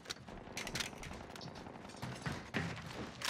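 Bursts of automatic gunfire and mechanical weapon sounds in the video game Call of Duty Warzone, with dense, loud overlapping shots and short sharp reports, without clear talk.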